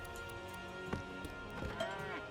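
Cattle at a cow farm in the video game Citadelum give a few low, drawn-out moos, moderately close, heard over a faint game ambience.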